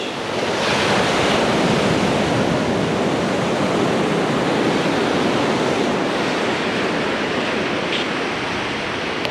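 Waves breaking steadily along Limantour Beach in Northern California, a loud, continuous roar of surf with wind buffeting the microphone throughout and no voices.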